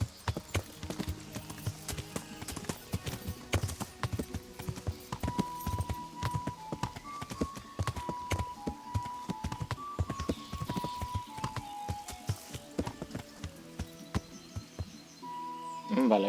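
Horse hooves clip-clop steadily in Kingdom Come: Deliverance, close and rhythmic, with a tonal music line running alongside and faint bird chirps.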